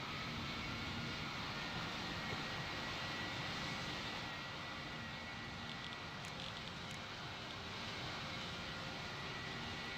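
An airliner in the Roblox game Pilot Training Flight Simulator powers up for takeoff, producing a steady, broad engine roar that stays loud and unbroken from start to finish, with no one talking.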